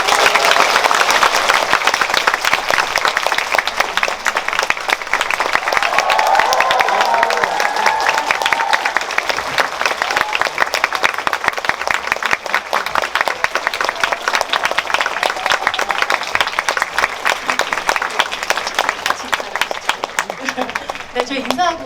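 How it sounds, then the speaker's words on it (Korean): Big, sustained crowd applause in a large cinema hall as Bong Joon-ho and the cast of Parasite come out for a screening talk, loud and continuous with scattered cheers and voices beneath. "큰 박수 부탁드립니다."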